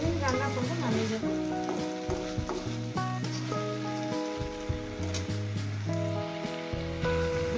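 Aloo posto with tender okra sizzles in a pan, a soft continuous crackle and hiss sitting beneath prominent melodic background music throughout.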